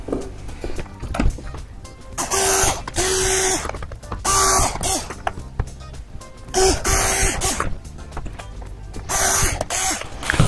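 A drill bores holes through plastic quad motor arm lugs, a loud whining burst repeated about five times in a steady rhythm, with quiet handling clicks and shuffling in between.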